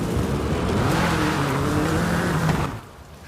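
Engine of a Volkswagen Beetle (Vocho) in the video game Forza Horizon 5, a steady loud drone with a slight pitch rise, cutting off abruptly near the end.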